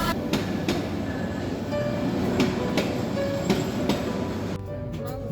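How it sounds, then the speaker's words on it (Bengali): Train on the Noakhali to Dhaka route pulling into a station, a loud continuous rumble with rhythmic wheel clatter and rail knocks, close by, with faint voices in the background. "ঠিক 6:05 আমাদের ট্রেন স্টেশনে এসে পৌঁছালো।"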